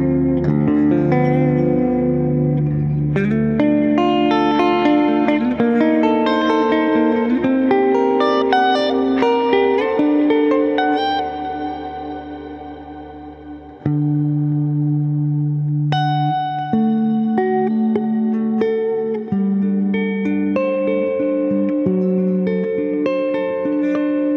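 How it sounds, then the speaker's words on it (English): Electric guitar run through an Axe-FX II effects unit with heavy reverb, sustained chords and melodic notes ringing into long, washy tails, loud and alone, with echo-like smears trailing each phrase. "the reverb, man, you can make things sound like you're on Mars and you're playing guitar"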